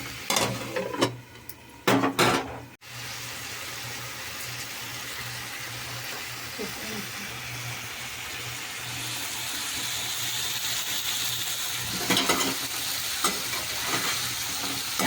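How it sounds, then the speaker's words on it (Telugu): Tomatoes stewing and sizzling in a pan for a Telugu-style tomato pickle, a steady frying hiss running throughout with a few louder stirring clatters near the start and again toward the end. "టమాటా మీకు మగ్గుతున్నాయి కదా"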